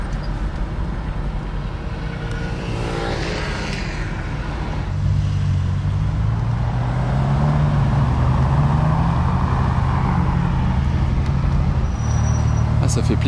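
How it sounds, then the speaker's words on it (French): Busy Paris street traffic with cars passing close by, a steady loud roadway rumble and engine drone that thickens midway through, with speech mixed in. "Trafic parisien."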